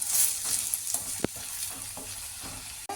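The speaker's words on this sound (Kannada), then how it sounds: "ಈರುಳ್ಳಿ ಹಸಿ ವಾಸನೆ ಎಲ್ಲ ಹೋಗಬೇಕು, ಬ್ರೌನ್ ಕಲರ್ ಆಗಬೇಕು, ಅಂಥವರೆಗೂ ಫ್ರೈ ಮಾಡ್ಕೊಳ್ಳೋಣ" Onions fry in a pan for chicken curry, a steady close sizzle with a few brief stirring scrapes and one sharp knock partway through, with no voices.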